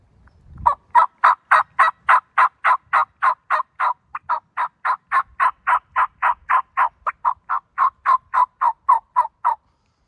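Turkey gobbles and yelps imitated by a person using a mouth call, a long run of around thirty loud, evenly spaced, raspy notes that briefly pause near the middle, heard up close with no talking.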